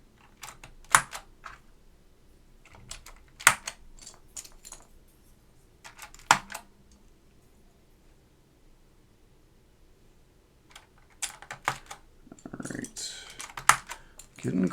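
Clicks of keycaps being pressed onto an Alps SKCM White mechanical keyboard in a portable PC restoration, a few sharp snaps spread apart, then a denser cluster of clacks and rustling near the end, close and fairly quiet.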